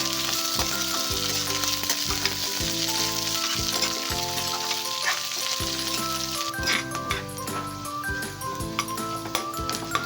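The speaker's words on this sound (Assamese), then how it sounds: "পিঁয়াজখিনি ইয়া ভাজি হৈ গ'ল" Onions with bay leaf and dried chilli fry in mustard oil in a wok, giving a continuous close sizzle while a spatula scrapes and clanks against the pan in an uneven rhythm.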